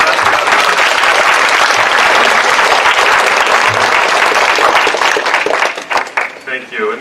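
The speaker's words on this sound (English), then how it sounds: "One more round of applause for our ROTC and Bedlam mascot." Loud audience applause fills a banquet hall at a senior citizens' breakfast honoring ROTC members and a Bedlam mascot, steady dense clapping that thins out and tapers toward the end.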